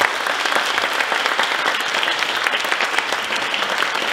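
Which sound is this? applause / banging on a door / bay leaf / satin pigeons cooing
applause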